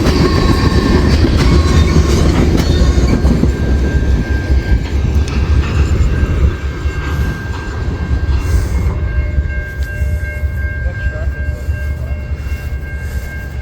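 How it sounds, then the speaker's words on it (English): An eastbound BNSF unit tank train rolls past on the Aurora subdivision, a loud, steady rumble of wheels and railcars with rhythmic clicking, easing slightly in the second half and continuing throughout with no talk. "So an eastbound unit tank train on the BNSF Aurora subdivision."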